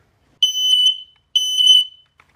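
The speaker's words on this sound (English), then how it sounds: "it's a blues smoke detector." A smoke detector played as a blues instrument sounds two shrill, steady electronic alarm tones of about a second each, separated by a short pause, loud and close with no talking.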